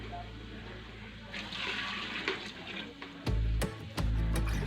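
Water, about five bowls' worth, is poured into a pan for matar pulao. A soft sizzle and murmur lead into a loud, gushing pour with splashing that starts midway, pauses briefly, then resumes strongly.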